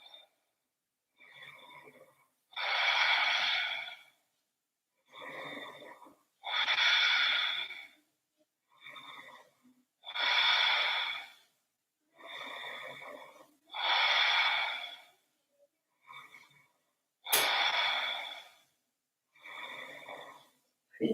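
Slow, controlled Ujjayi breathing during a yoga session. Soft, throaty inhales and exhales alternate in a regular rhythm, about one every few seconds. It is close and quiet, with no talking.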